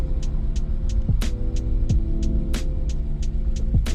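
A car drives along a road in Lviv with a steady, close engine and road hum, while regular soft thumps and clicks repeat throughout and no one speaks.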